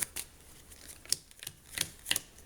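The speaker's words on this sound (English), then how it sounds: "I have to shuffle up my deck." A deck of Marvel Legendary game cards being shuffled, a faint series of quick papery riffles and taps in irregular bursts, close and quiet with no talking.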